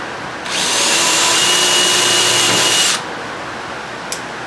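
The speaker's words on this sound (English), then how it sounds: "where you can drill the hole" A power drill whines loudly for about two and a half seconds while drilling a hole in an RV-10 aircraft cabin door, then stops; a quiet room and a small click follow.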